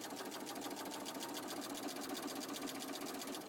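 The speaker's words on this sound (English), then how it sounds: "it will just stitch right in place" A sewing machine runs steadily, stitching binding onto a quilt in a continuous, even mechanical whir with a fast needle rhythm, close and loud with no talking.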